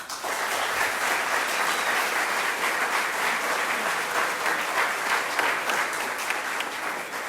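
An audience applauds at a talk by the CEI-RD executive director, a dense, steady clapping that stays loud and sustained for several seconds with no speech over it.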